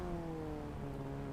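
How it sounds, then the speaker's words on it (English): Formula Ford 1600 race car engine on track, a steady mid-pitched drone with the revs easing slightly lower, heard at close range without voices. "I can hear the revs drop"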